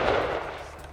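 A Peruvian Modelo 1935 Mauser rifle chambered in .30-06 fires, and the clip is filled with the loud, sustained tail of the shot echoing across the range.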